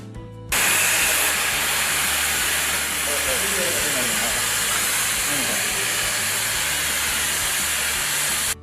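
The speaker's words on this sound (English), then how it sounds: "Place the blowpipe along the angle plate and start the movement." An oxy-fuel cutting torch blowpipe works along mild steel plate, a loud steady roaring hiss that starts abruptly and holds unbroken for about eight seconds.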